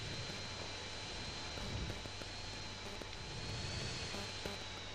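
Steady jet engine drone from a fighter jet in GTA San Andreas Mobile, a constant whining roar with a thin high tone on top, moderately loud and unbroken, with no talk over it.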